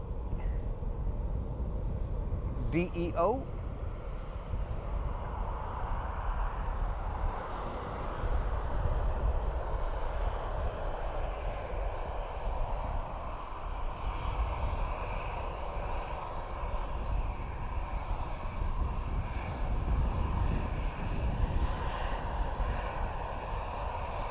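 An Airbus A320 airliner at Dublin Airport, bound for Split, Croatia, heard from a distance as a steady broad jet engine roar that holds level throughout, with a brief higher chirp early on and no talk.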